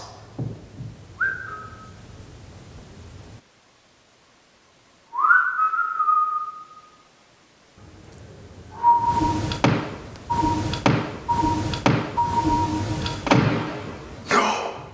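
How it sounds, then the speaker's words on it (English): Short, thin whistled tones sound twice in a quiet space inside the Fairfield Infirmary, an abandoned hospital, then a run of repeated whistle notes returns amid bumps and thuds. "It was like a little whistle."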